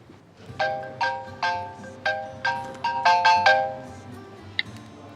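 A phone ringtone plays nearby, a bright melodic run of about a dozen chiming notes in a bouncy pattern, with no talking.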